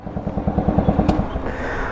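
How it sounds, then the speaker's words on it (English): A kit-set Honda Super Cub style 125 motorcycle engine running close by, with a fast, even chugging pulse that continues steadily, loud and alone. "Here we are on the ever reliable Honda Super Cub Lifan 125 Super Cub Honda."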